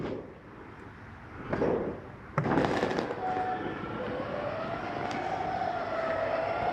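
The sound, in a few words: electric RV awning motor extending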